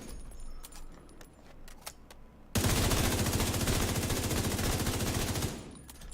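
Lightweight M4 rifle firing full auto in The Division 2, a sudden loud sustained burst of rapid gunshots lasting about three seconds after a quieter lead-in of faint game noises.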